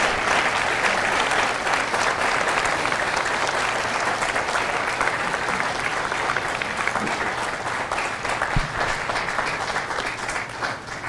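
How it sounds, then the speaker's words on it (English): A large crowd at a Marine recruit graduation ceremony at MCRD San Diego applauds the Echo Company Marines, a long, even roar of clapping that thins slightly toward the end, with a sharp knock near the close. "Ladies and gentlemen, a round of applause for their dedicated service to Corps and country."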